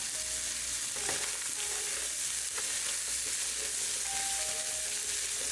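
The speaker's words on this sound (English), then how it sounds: "while this bacon is cooking for the first few minutes, I chop my celery" Cured, smoked bacon cooks in a soup pot with a constant close sizzle and crackle, broken by a few faint clinks, and no one speaks.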